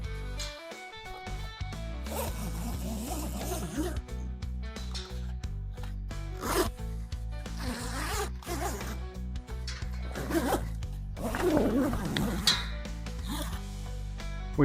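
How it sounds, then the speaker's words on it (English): Zipper being drawn closed around the storage bag of a Jumping Jack tent trailer, repeated raspy zipping strokes in short bursts with rustling fabric between them, close up and without speech, over faint background music. "zip your bag closed."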